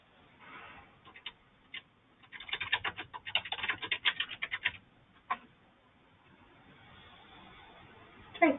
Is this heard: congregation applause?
no